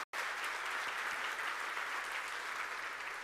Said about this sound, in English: If we could have a huge round of applause for these two headline sponsors